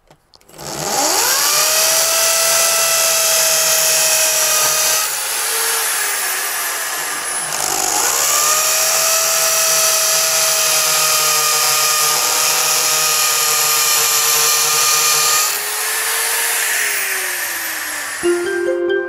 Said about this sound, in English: we now have our holes marked and we're ready to drill